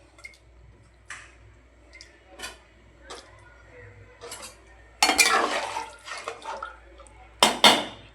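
Potato pieces for egg biryani drop into a pressure cooker pot with a few scattered knocks and taps, followed by louder clattering bursts of food and utensil against metal, the impacts close and separated by quiet gaps.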